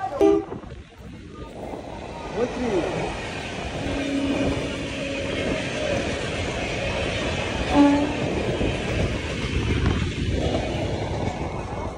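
A Shantipur local train between Sealdah and Ranaghat rumbles along steadily, carriages rattling and clattering on the tracks, with a loud constant roar throughout.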